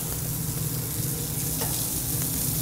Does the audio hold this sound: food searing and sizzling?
yes